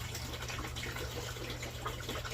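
Fish water from an aquaponics tank splashes and trickles onto soil in pots sown with watermelon and cantaloupe seeds, a continuous pouring patter with uneven bubbly spatters, close and fairly quiet, with no one talking.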